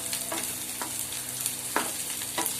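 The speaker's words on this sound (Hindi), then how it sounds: "तो हमें अपने प्याज को हल्का सा गोल्डन ब्राउन कर लेना है" Chopped onions sizzle gently in a pan over low heat while being stirred, with a steady soft frying hiss broken by a few light scraping strokes of the spoon.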